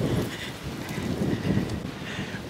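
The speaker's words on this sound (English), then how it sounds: "Breezy." Breezy outdoor wind buffets the microphone, producing a steady low rumble with gentle gusting swells that lasts throughout, with no one speaking.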